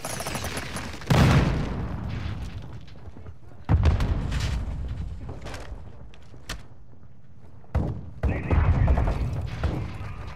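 Call of Duty gunfire, loud bursts and booms cutting in over a rumbling battlefield bed, with quieter stretches between the heavy volleys.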